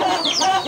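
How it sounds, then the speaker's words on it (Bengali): A silkie chicken on a poultry farm gives a brief, close cluck with a rising, squawky tone, lasting under a second. "এটা হচ্ছে সিল্কি মুরগি আমাদের"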